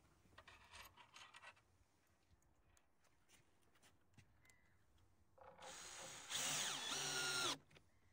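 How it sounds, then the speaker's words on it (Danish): Power drill driving a screw into a window bracket during a window installation, with light scraping and handling noises first and then a short, bright whirring burst lasting a couple of seconds. "Så giver jeg dem også en skrue der."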